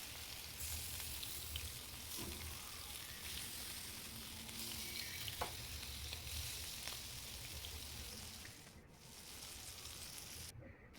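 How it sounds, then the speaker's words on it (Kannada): Tuna fish frying Mangalore style in hot oil, a steady dense sizzle and crackle running throughout with a few brief pops, close and continuous with no talking. "ಫ್ರೈ ಮಾಡ್ತಾ ಇದ್ದೇನೆ."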